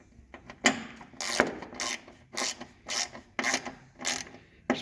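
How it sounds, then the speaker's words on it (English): Screws driven in by a power driver to mount a sound bar on the roof of a Polaris Ranger, heard as about seven close, loud mechanical bursts separated by brief pauses, with no talking. "So right now I'm putting the screws in the top."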